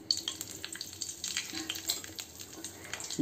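Asafoetida sizzles in hot oil for a dal tempering, a soft steady crackle with light stirring and pan clinks, quiet and close, no talking.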